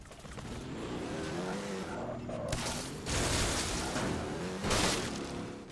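Car driven hard in the Dead Rising 3 video game, engine roaring steadily with bursts of tyre squeal and skidding swelling louder around the middle and near the end, with faint speech underneath.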